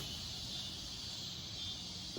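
Cicadas buzz faintly outdoors on an evening at a backyard cooker, a thin, steady high-pitched drone that holds without break beneath a quiet low background rumble.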